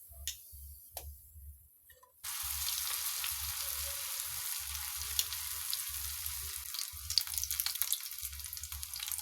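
Spicy onion rings sizzle in hot oil with a steady, close crackling hiss that begins suddenly after a quiet moment and continues densely to the end, with no talking.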